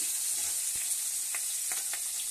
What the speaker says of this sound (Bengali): পেঁয়াজটাকে ভালো করে আমি ভেজে নেব লাল লাল করে।